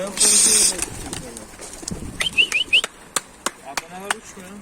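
Adana pigeons coo and call close by while several people talk over them, with wingbeats and sharp clicks scattered throughout.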